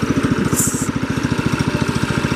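An old IH International Harvester Cub Cadet lawn tractor engine runs close by with a steady, rapid chugging pulse and an even throbbing rhythm throughout, with no voices over it.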